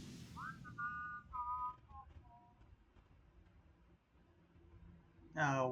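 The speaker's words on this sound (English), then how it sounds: "Engaging whistling subroutine." A robot whistling in the video game EverReach Project Eden, a short run of clear, steady tones stepping downward in pitch, followed by quiet background and a brief burst of sound at the end.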